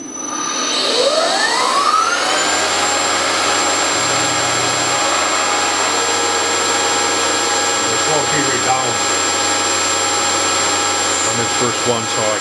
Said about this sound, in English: I got to turn my spindle on